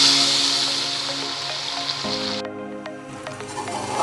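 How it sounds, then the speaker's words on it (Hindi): Chicken being fried in oil for Hyderabadi chicken biryani, a loud steady sizzle close up that drops off sharply midway, then continues more quietly with light stirring clinks, and no one talking. "हमारा चिकन जो है पक चुका है और हम जो है इसे भून रहे हैं"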